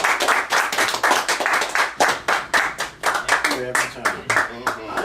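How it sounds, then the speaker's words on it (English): A small audience claps for a community member at a gathering, a steady close run of individual hand claps with a few voices talking and cheering underneath near the end. "let's give a nice round of applause for Garrick Wilhelm"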